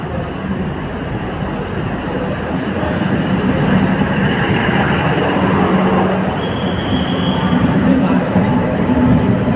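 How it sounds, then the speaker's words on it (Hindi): Banihal railway station ambience: a train rumbles and rolls steadily nearby, with clattering wheels, a brief high squeal, and faint voices mixed into the continuous loud noise. "सो अभी दोस्तों आ चुके हैं हम बनिहाल रेलवे स्टेशन"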